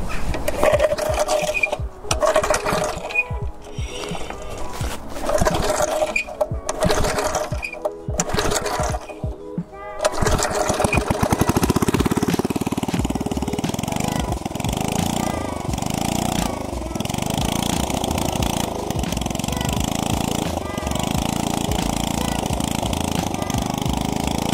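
A Briggs and Stratton 3hp rotavator engine fitted with a new carburettor, sputtering through rough pulling attempts before catching and settling into a steady, loud, continuous running drone close by.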